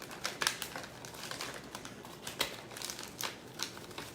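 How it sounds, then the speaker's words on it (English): Crinkly plastic packaging rustling as a sheet of seaweed is pulled out of its pack for a lunch bento, with close, steady crackling and a few sharper crinkles throughout. "So I'll take one piece of seaweed out."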